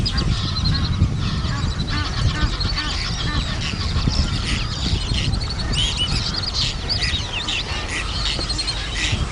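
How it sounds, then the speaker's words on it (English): Waterbirds at a lake in Tanzania, including whistling ducks, with terns, egrets and pelicans nearby, keep up a loud, dense chorus of overlapping honks, whistles and calls that runs on without a break. "There's terns and egrets flying, pelicans, whistling duck in the foreground."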